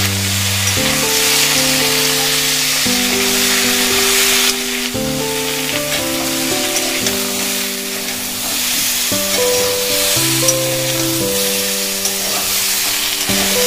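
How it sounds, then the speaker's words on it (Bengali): Boiled green jackfruit pieces fry in hot oil, giving a loud, continuous close sizzle with faint stirring, while soft background music plays throughout. "ওই একই তেলে আমরা সিদ্ধ করা এঁচোড়টাও ভেজে নেব।"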